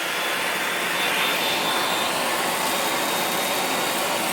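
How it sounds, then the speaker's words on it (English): A regular handheld hair blow dryer blasts a steady, loud, unbroken whoosh at close range while heating and shrinking plastic wrap around a gift basket, with no talking. "next I'm going to take my regular hair blow dryer, hook it up, and I'm starting from the bottom."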